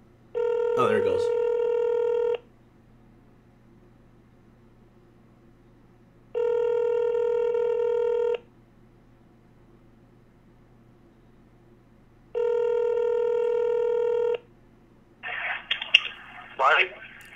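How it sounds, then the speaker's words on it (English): A telephone rings three times, each ring a steady two-second electronic tone separated by about four seconds of quiet, followed by a brief burst of noise and voice as the call connects. "phone ain't ringing. Oh, there it goes."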